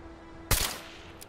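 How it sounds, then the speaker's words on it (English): One loud, close burst of explosive minigun fire in Fallout 4, a sharp blast with a short rumbling decay and a faint later crack. "Is that an explosive minigun?"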